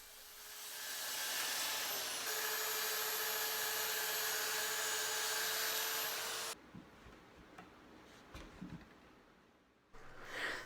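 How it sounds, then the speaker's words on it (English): Track saw cutting plywood, a loud continuous whining cut for about six seconds that stops abruptly, followed by quieter handling noises and a brief burst of sound at the end. "I'm going to use my track saw to make the cuts."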